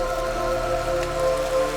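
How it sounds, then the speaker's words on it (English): Gentle rain falls against windows as a steady, soft patter of drops over an even hum, with no voices present. "The sound of the rain was soothing"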